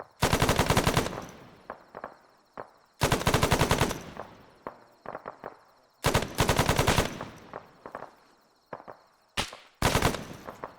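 Machine gun in ArmA 3 firing sustained bursts, four loud, rapid volleys of about a second each with short pauses and trailing echoes between, plus a brief final burst.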